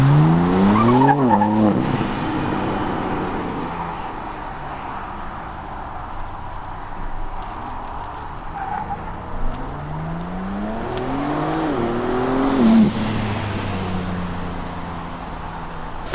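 Cars driven hard around the Nürburgring, engines revving up and down in repeated swells with tire squeal and skidding, loud and fairly close, passing one after another.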